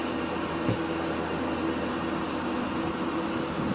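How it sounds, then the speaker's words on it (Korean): A commercial refrigerator's machinery runs after being switched on for a gas check following defrosting, giving a steady, even mechanical hum that holds at one level throughout with no speech. "이제 기계를 작동시켜봐 가스 이상 여부 확인합니다."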